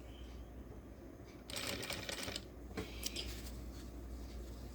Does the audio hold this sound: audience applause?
no